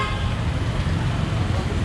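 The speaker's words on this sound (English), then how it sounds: "This guy's honking at me." Car horn honking on a busy city street lined with bars and restaurants in Phnom Penh, Cambodia, with steady traffic rumble underneath and a brief toot close by.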